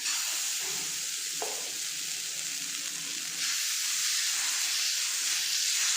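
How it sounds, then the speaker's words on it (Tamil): Ragi dosa batter hisses on a hot pan in a steady, close, bright sizzle that swells louder partway through and holds, with no talking. "இன்னொரு தோசை ஊற்றிக்கலாம்."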